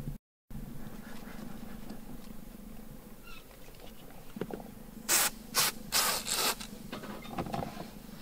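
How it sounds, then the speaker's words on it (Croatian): A cleaning spray is sprayed onto stains inside a Peugeot 206, several sharp hissing bursts in quick succession, close and loud, after a stretch of quiet rubbing and handling sounds. "sad ćemo probati to čistiti sa ovim sprejom"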